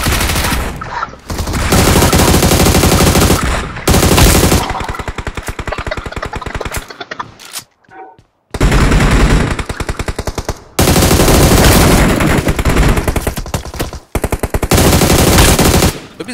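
Gunfire in the mobile game BGMI, loud sustained bursts of rapid automatic fire, several seconds long, broken by brief pauses and one near-silent gap before heavy shooting resumes.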